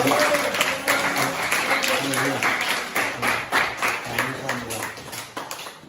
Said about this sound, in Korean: 박예철 선교사님하고 우리 사모님께 다시 한번 감사의 박수 좀 보내주세요.